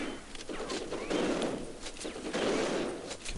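Rapid automatic turret gunfire from System Shock 2 rattles on continuously in dense, overlapping bursts, loud and close, with no talk over it.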